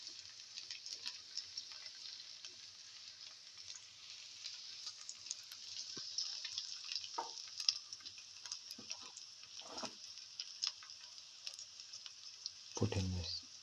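Chicken liver, okra and potato sauteing in a pan for a pilaf, giving a steady, faint sizzle with occasional soft stirring clicks and a brief louder scrape near the end.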